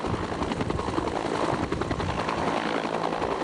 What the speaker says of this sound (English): Now he's getting ready to lift off now.